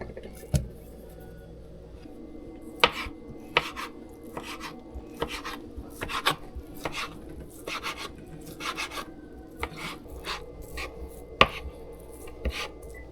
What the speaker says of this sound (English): I'm just going to take them and put them on a chopping board and cut them up real well